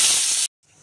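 Mustard seeds and curry leaves spit and crackle as they hit hot oil in a pan: a loud burst of hissing sputter, a brief silence, then a quieter, steady sizzle.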